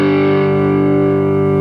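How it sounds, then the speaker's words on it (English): Distorted electric guitar played through a 6L6 tube amp into a Greenback speaker miked with an SM57, holding a steady, sustained chord with rich harmonics and a touch of effects, loud and alone. "You've got an increase in treble, you've got an increase in distortion, and these two are going to affect each other."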